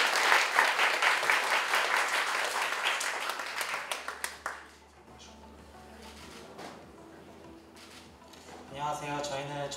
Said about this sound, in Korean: 전기 자동차 충전소 알림이 팀 큰 박수로 맞이해 주시기 바랍니다